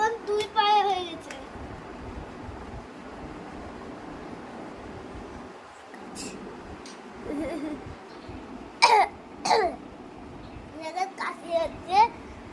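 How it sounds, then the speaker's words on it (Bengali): A child with a cold coughs in short, harsh bursts near the end, after some quiet speech and throat noises close by. "কাশি হচ্ছে"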